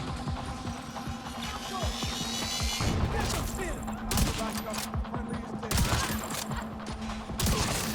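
Dense, continuous gunfire from The Division 2 video game, with rapid bursts and sharp crashing impacts layered over a steady game soundscape throughout, loud and close.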